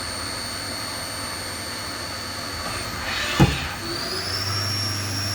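A Haas VF3 vertical machining center spindle gives a steady, close whine with a brief sharp knock midway, then its pitch rises as it spins up toward top speed.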